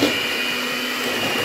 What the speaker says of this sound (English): I'm going to use a whisk.